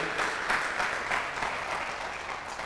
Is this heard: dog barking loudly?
no